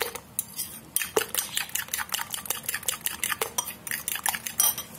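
A spoon whisks batter of flour and milk in a bowl, giving rapid, repeated clinks and scrapes against the bowl in an uneven rhythm, close and clear with no talk.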